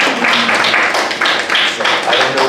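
An audience applauds after a performance, a brief patch of scattered clapping close by and fairly loud, with faint voices mixed in.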